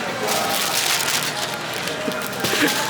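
Steady rain falls outdoors as a dense, close hiss with faint crackling patters throughout the short stretch.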